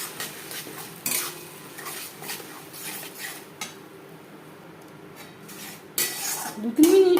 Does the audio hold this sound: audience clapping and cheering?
no